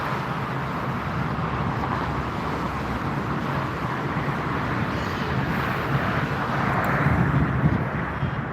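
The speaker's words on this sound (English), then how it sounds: "Another landing from Lufthansa." A Lufthansa airliner landing at Frankfurt Airport, a loud continuous broadband roar with wind buffeting that swells slightly toward the end, heard from nearby and with no talking.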